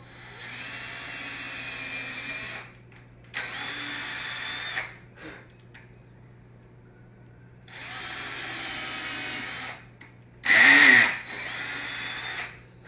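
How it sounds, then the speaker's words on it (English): A power drill whines in repeated bursts of a few seconds each, drilling into pallet wood, close by, with quiet pauses between and a sharp high squeal near the end. "This is when drilling gets fun, is when you're hanging a bunch of stuff."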